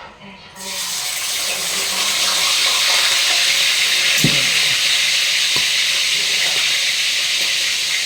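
Pork chop dropped into a hot pan begins a loud, steady frying sizzle that fills the whole stretch, with a few faint clinks of utensils.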